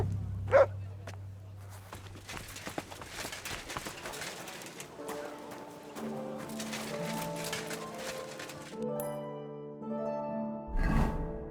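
A dog barks in Kingdom Come: Deliverance II: one short, sharp bark near the start, followed by tonal in-game music and ambient background noise.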